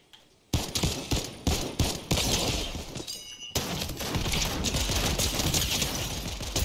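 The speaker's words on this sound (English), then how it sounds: "let's test out the infantry rifle here." An infantry rifle fires in Fortnite, its shots cracking in quick bursts with steady rapid fire after a short pause, loud and close amid other gunfire and game effects.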